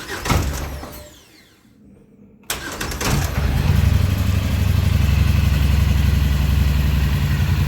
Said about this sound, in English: We'll go ahead and start her up.